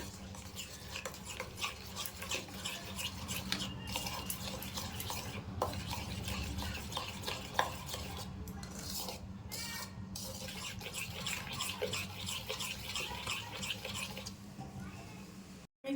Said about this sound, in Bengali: চিনি আর বাটার আর রিফাইন তেলটাকে ভালো করে মিশিয়ে নিয়েছি